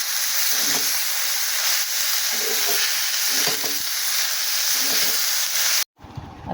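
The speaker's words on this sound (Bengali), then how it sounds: "তেলের ওপর এইভাবে নেড়ে চেড়ে ভেজে নিলে আমার হয়ে যাবে ছোট ভাজা" Chopped banana stem is stirred and fried in hot oil, giving a loud, dense, steady sizzle close up. Repeated scraping stirs of the spatula recur at a regular pace, and the clip ends abruptly.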